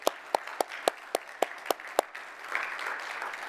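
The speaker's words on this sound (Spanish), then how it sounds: "Un aplauso." Eight sharp, evenly spaced hand claps ring out alone, close and distinct, at a church evangelization gathering honoring mothers, then fade into a soft wash of scattered applause and room murmur.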